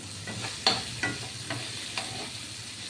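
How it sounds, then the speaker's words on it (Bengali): Capsicum, carrot, beans and green chilies fry in very little oil for fried rice, a soft, steady sizzle marked by several evenly spaced scrapes and taps of a spatula, with no one speaking. "তেল কিন্তু খুব কম এই অল্প অল্প আছে এটা ভাজা ভাজা হচ্ছে"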